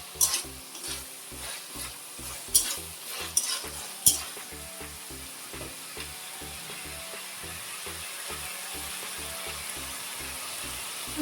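Peas and minced meat sizzle in a pan of khichuri while a spoon stirs and scrapes in regular strokes, with a few sharp clinks early on and a constant soft frying hiss underneath.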